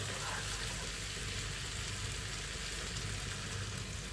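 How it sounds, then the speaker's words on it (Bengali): Fish frying in a spiced curry base while being stirred: a steady, dense sizzle with a faint low hum underneath, constant and close, with no voices. "মাছগুলো দিয়ে একটু নেড়ে চেড়ে"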